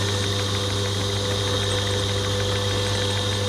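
A metal lathe on power feed machining a gear for an RC drift car, giving a steady, loud motor hum with a constant whine and rattle from the machine wobbling on a pallet trolley.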